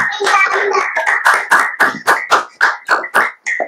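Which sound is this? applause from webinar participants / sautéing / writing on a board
applause from webinar participants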